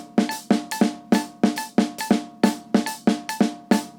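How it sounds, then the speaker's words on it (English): A metronome set to 140 BPM ticks steadily and crisply with sharp, evenly spaced clicks and no voices over it. "I'm going to keep the metronome the same on 140."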